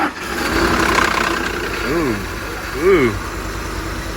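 A Ford F-150 pickup with 330,000 miles idles with a steady low rumble, and a couple of short rising revs stand out; a person gives a brief exclamation over it.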